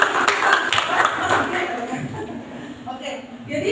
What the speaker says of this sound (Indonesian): Tepuk tangannya mana mau dipakai?